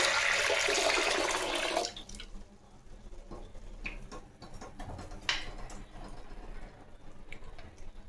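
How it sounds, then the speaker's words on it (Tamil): Water gushes and splashes into a pot for a couple of seconds, about half a litre for sambar, then stops, leaving light clinks and taps of kitchen activity. "இதை இப்போ ஒரு அரை லிட்டர் தண்ணி ஊற்றிக்கலாம்"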